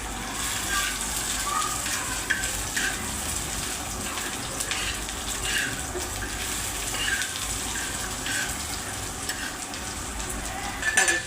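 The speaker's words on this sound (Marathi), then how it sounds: "भाजून घेऊया." Grated coconut and onion roasting with spices in a pan, giving a steady, dense sizzle with soft scraping stirs throughout and a slightly louder burst at the very end.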